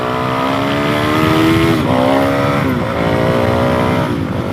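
A motorcycle engine revs loud and close while the bike pulls a wheelie, its droning pitch climbing steadily then dipping and rising again in two surges, with no one talking.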